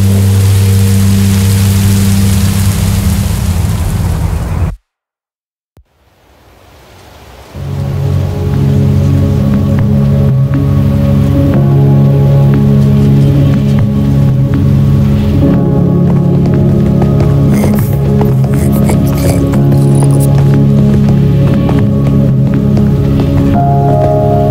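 Rain falls in the video game Minecraft Story Mode. After a brief moment of silence, a steady, loud hiss of rainfall sets in and continues over low tonal background sounds.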